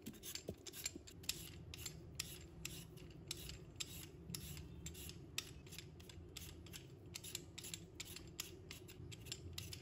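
Steady scraping of a peeler or knife shaving the skin off a raw sweet potato, with quick repeated rasping strokes, close and fairly quiet, no voices.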